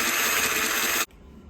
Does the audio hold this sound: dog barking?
no